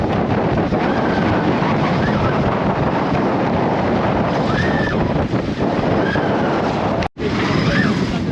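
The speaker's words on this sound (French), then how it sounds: "Maintenant il y a une grosse houle en plus." Strong wind roars over the microphone aboard a small sailboat at sea in heavy swell, a loud, steady rush with water sloshing underneath, briefly dropping out for an instant near the end.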